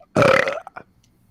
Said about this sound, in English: I was trying to hear my burp through the thing